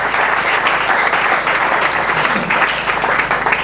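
A church congregation bursts into sustained applause, dense steady clapping from many hands filling the room at an even level for several seconds, with no voices standing out.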